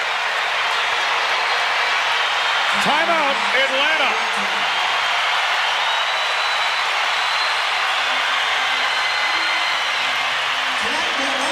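Loud, steady crowd ovation fills a basketball arena during a 1995 Bulls vs Hawks game after a Michael Jordan play, continuing as a broad wash under a brief announcer's voice.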